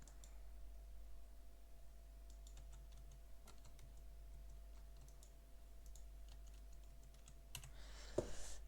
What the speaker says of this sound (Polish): Ja zaraz wymacam całą klawiaturę ja znajdę odpowiedni przycisk.